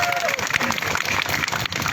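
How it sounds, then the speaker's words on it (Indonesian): A dense wash of clapping from a crowd of workers at a protest keeps going steadily, with some voices mixed into the noise, at Jakarta City Hall. "Tepuk tangan untuk semua yang bekerja di situ."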